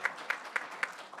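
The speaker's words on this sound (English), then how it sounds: "another round of applause for our students" A small room at a school board meeting claps for students, a faint and sparse patter with a handful of distinct claps standing out over a low background.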